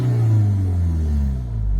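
A 2024 Hyundai Elantra N with an 8-speed DCT revs briefly, its engine note rumbling and swelling then easing off, loud and close with no talking.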